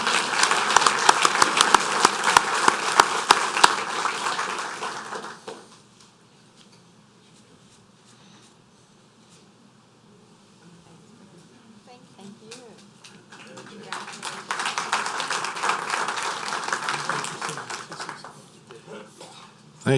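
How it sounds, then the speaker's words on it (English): A round of applause at a parish council meeting honoring the parents of Eagle Scouts, steady clapping from a room of people that fades out, then a second burst of clapping later. "let's give a round of applause for the parents also"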